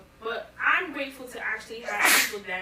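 A single sharp sneeze bursts out near the end, close and loud, amid a woman's conversational speech in a podcast setting.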